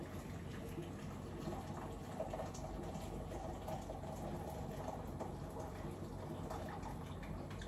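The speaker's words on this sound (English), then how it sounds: "Just pouring a hot water." Hot water poured into a container, a steady broadband wash of liquid flow running continuously and fairly loud at close range, with no distinct breaks.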